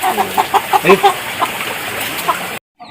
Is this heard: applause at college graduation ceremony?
no